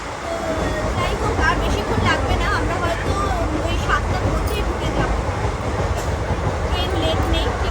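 A passenger train on the Sealdah–Puri route runs on past Naihati, a loud continuous rumble with rhythmic clicking of wheels over rail joints, the carriage's steady roar filling the whole stretch, with faint chatter of passengers underneath.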